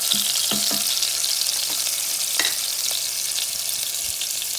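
Oil sizzles and fries steadily in a pan, a constant bright hiss with a few soft scrapes and knocks from stirring, close up and without talk.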